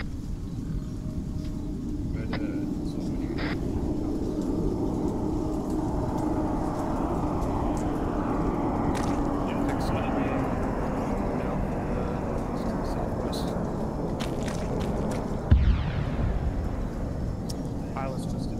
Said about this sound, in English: Sounds like a jet might be taking off from that enemy airfield.